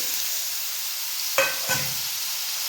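Guava pieces dropped into a hot cumin and mustard seed tempering give a steady frying hiss, broken by two brief louder sizzling bursts as the fruit hits the oil. No one speaks.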